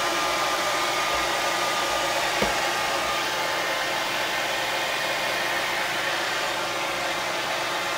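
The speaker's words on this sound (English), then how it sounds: "heat it up with the hair dryer" A hair dryer on a warm setting blows steadily close up while heating the edge of a Kindle Fire HD 8 tablet to soften its glue, a loud continuous airy whir with no break.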